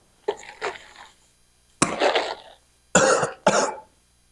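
Several harsh coughs close by, one early burst, then a pause and a rapid run of three more, loud against a quiet background.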